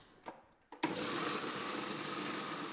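Food processor grinds kibbe with a steady, dense whir that starts abruptly after a couple of soft knocks and runs on alone at moderate loudness.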